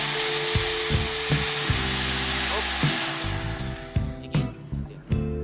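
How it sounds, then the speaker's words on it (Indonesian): An Ingco RH10508 rotary hammer drills without impact, whining loudly and steadily for about three seconds, then winds down, followed by several sharp knocks and clatters. "ini kita posisikan sebagai bor biasa tanpa impact"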